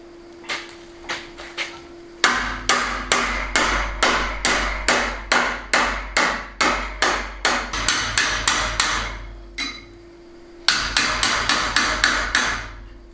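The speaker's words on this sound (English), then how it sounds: "I'm going to get my hammer and get them knocked into shape" Metal handles being bent into shape with a hammer on a farm in Spain: rapid, sharp ringing blows in steady runs. A few slower strikes come first, then two long, even bursts separated by a short pause.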